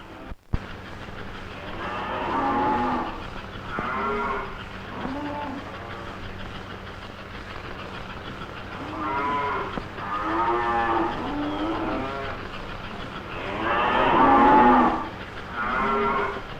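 Cattle moo repeatedly, several long lowing calls spread across the stretch over a steady low rumble of machinery.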